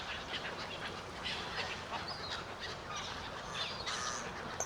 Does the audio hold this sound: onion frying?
no